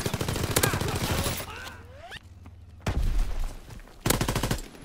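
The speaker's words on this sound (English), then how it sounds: "Fucking LMG bullshit." Light machine gun fire in Call of Duty: WWII, long rapid bursts loud and close, broken by short pauses and whistling pitch sweeps, with another fierce burst toward the end.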